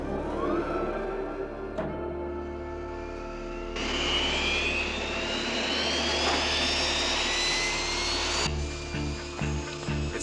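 An F-86 jet fighter's engine roars nearby, a loud steady whine that rises in pitch and surges before easing off.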